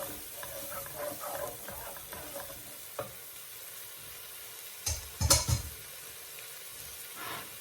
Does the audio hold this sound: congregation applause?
no